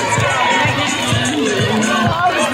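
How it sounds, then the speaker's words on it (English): Children cheering and shouting for their houses during a race at a school sports day, a loud, busy crowd of young voices, close and continuous for a couple of seconds. "Children, you can cheer for your houses."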